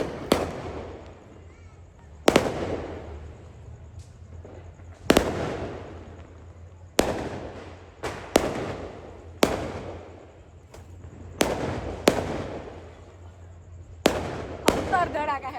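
Diwali firecrackers burst in a city street, about a dozen sharp, loud bangs at irregular intervals, each ringing out with a rumbling tail, alongside a steady background hum.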